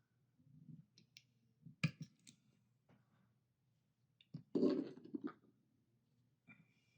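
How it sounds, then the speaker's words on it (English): A small cutter snips 3mm beads off a strand, giving a few soft close clicks and rustles separated by near silence, with no voices. "So I'm going to cut these off the strand"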